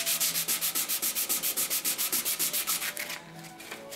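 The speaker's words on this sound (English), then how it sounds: "I think you're going to boil down to just having to do some sanding" Steady rhythmic rasping of sandpaper rubbed back and forth over wood, close and loud, with strokes slowing and fading near the end.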